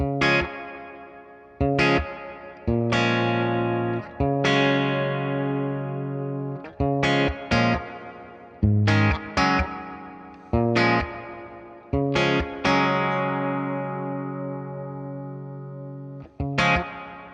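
Electric guitar strums a series of ringing chords through a Hungry Robot Stargazer reverb pedal on its blue setting, sparkle switch off, each sustaining and decaying before the next, played alone at steady volume.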